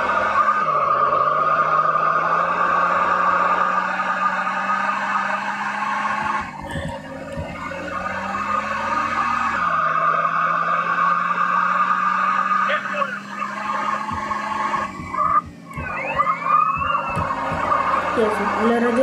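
Police car sirens in Grand Theft Auto San Andreas: a steady wailing siren tone holds under continuous game noise and engine drone for the whole stretch, with scattered clanks and bumps toward the end.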